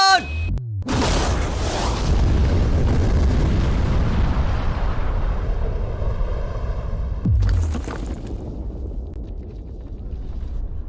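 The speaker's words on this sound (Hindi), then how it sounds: "लेकिन ये एक असली धमाका है" Huge bomb blast around a safe, a sudden deafening boom that rumbles on for several seconds, then a second sharp burst and a long, fading roar, loud and close.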